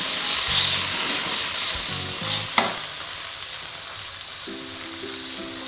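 Chili, red chilies and tomato in a frying pan hiss and sizzle loudly as a little water goes in, with the sound settling into a steady, bubbling fry punctuated by stirring scrapes.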